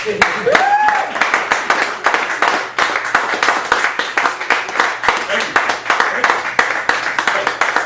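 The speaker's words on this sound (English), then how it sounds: "Give him a round of applause" Sustained applause from a live crowd at a poetry feature in a Chicago café gallery, dense and steady with many hands clapping at once, fairly loud, with voices and a cheer rising over it early on.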